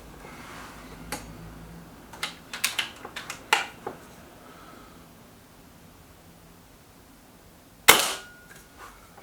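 A single sharp, loud shot from a Kral Pro 500 air rifle cracks close by near the end. Earlier, a scattering of light mechanical clicks breaks an otherwise quiet room.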